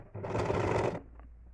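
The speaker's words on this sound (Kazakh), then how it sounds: "Енді осы жерден бірнеше рет закрепка жүргіземіз да, жаңа шетімізді тігіп шығамыз." Sewing machine stitching a quilted seat cushion, one close burst of rapid whirring stitches lasting under a second, then a few faint ticks as it stops.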